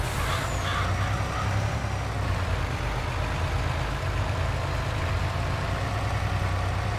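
A Mack truck engine idles in Farming Simulator 22, a steady, even low rumble that holds close and loud for the whole stretch with no talking.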